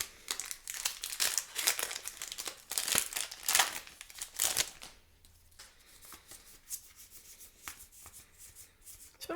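A Magic: The Gathering Time Spiral Remastered booster pack is torn open and its foil wrapper crinkled close up, followed by softer rubbing and shuffling as the cards are handled.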